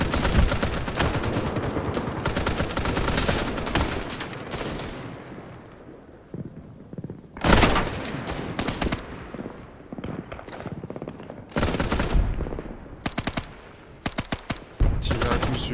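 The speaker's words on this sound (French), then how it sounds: "Tirez à coup sûr, hein, évitez de cramer vos cartouches." Rifle and machine-gun fire in a war video game depicting the battle of Luanda between mercenaries and MPLA fighters: loud, sharp bursts and rapid strings of shots separated by quieter pauses, close and punchy throughout.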